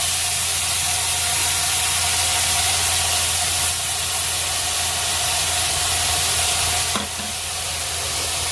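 Garlic paste sizzles loudly in hot oil alongside bay leaves and green cardamom for a Bengali chicken curry, a dense, constant hiss close up that dips slightly near the end, with no voices.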